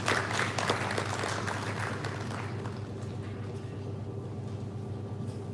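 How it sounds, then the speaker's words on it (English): An audience at a university research lecture award ceremony applauds the chairperson, with dense clapping loudest at first and then thinning into a softer, steady patter. "Shall we applaud our chairperson?"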